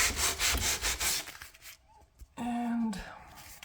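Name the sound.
hand sanding wood window trim with sandpaper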